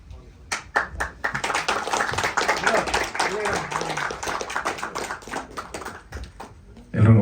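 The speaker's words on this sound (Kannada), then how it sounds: "ನಮ್ಮೆಲ್ಲರ ಚಪ್ಪಾಳೆಯೊಂದಿಗೆ ತರುಣ್ ಸುಧೀರ್ ಸರ್ ಇದೀಗ ಟ್ರೈಲರ್ ಅನ್ನ ಅನಾವರಣ ಮಾಡ್ತಾ ಇದ್ದಾರೆ." Audience applause at a launch event for the Dharmam film trailer: dense clapping fills the room for about six seconds, loud and steady, with a few sharper claps near the end and voices mixed in.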